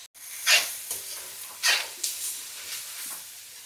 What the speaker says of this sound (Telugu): ఇది బాగా వేగనిద్దాం.